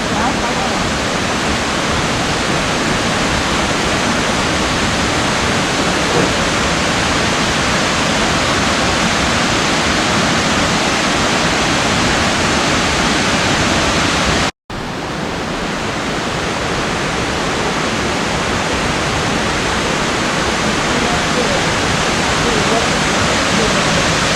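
Namkat Waterfall in Oudomxay, Laos roars as a loud, steady wall of rushing water close by, continuous throughout except for one brief cut midway.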